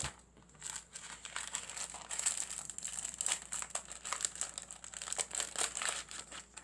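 Crinkly plastic wrapping being torn open on a package, close and continuous rustling and crackling with irregular sharp crunches.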